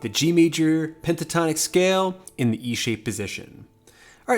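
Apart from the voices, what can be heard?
No everyday noises stand out.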